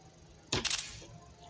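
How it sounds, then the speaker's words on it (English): A camera shutter sound plays for a screenshot, a single short crisp click-and-snap burst heard alone against faint background hiss. "I'm taking the picture of this information"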